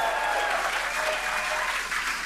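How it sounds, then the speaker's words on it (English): Applause rings out during a SpaceX Starship test flight broadcast, a steady, even roar of many hands clapping that holds at a constant level with no break. "Please clap."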